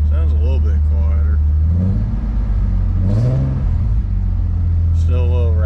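A Nissan 300ZX engine runs with a raspy exhaust from a leak, a steady loud drone with rises and falls in revs, while someone talks over it throughout.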